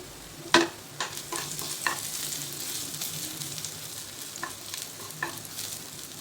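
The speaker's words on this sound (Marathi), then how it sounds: "तर आता त्यामध्ये हे आलं आणि लसूण बारीक कापून घेतलेलं आहे. हे दोन्ही पण छान परतून घ्यायचे." Finely chopped ginger and garlic sizzle in oil in a kadai, a soft steady fry punctuated by a few sharp scrapes and knocks of a stirring spoon against the pan.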